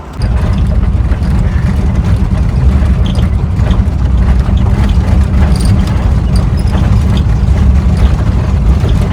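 An auto rickshaw engine rumbles loud and close throughout a ride in Goa, a steady low drone with road and rattle noise and no break or pause.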